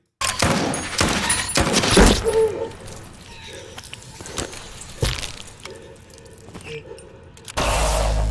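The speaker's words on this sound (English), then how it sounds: "Let me hear that gunshot again, actually." A series of sharp video game gunshot effects, several loud bangs in the first few seconds followed by fainter shots, ending in a sudden loud burst of noise.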